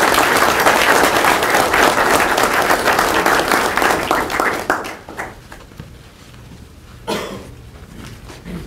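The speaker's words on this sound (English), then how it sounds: "Can we give them a round of applause?" Loud, dense applause from a large crowd at a city council meeting fills the first few seconds, then fades to scattered claps and a brief final burst of clapping.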